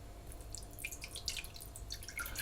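Water pours steadily from a tap or jug into a pot set on a lit stove burner, making a continuous light splashing trickle with small drips, at close range and with no one speaking.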